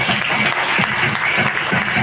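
Thunderous applause at a Maratha community felicitation ceremony, a dense, loud, sustained crowd of clapping hands with faint voices mixed in.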